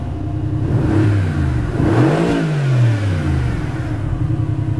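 A Mercedes-AMG GT R Roadster's naturally aspirated engine revs up and falls back, a rising and dropping growl close by, over a steady idling rumble.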